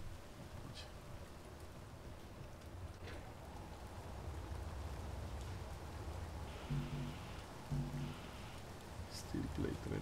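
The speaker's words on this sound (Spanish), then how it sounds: "Está lloviendo." Rain falls in a video game as a steady, soft, even hiss, fairly quiet throughout, with a few faint tonal blips toward the end.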